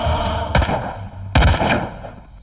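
Two heavy bursts of gunfire in a South Indian romantic action film fight scene, each loud and echoing, separated by under a second over a droning score.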